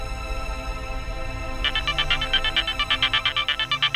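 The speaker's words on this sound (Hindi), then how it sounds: "वेद जी का फोन है।" A phone ringtone for an incoming call begins partway through, a loud repeating electronic pattern of rapid pulses over a quieter tonal music bed.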